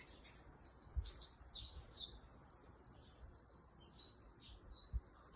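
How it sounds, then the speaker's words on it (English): Morning birdsong of several birds chirping and trilling at a moderate distance, with continuous overlapping tweets and whistles over soft outdoor ambience, no talking. "The bird song this morning"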